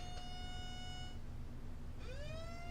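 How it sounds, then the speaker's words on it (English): A synthetic siren alert from a weather radar program sounds twice, a sustained pitch that cuts off, then a rising wail, over a low steady hum. "don't worry about that siren sound you just heard."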